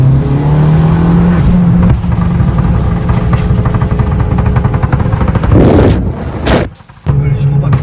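A tuned 450 hp Abarth 500 accelerates downhill, its engine roaring loud and close with rising revs, a brief shift dip near the end, then pulling again, with voices talking over it.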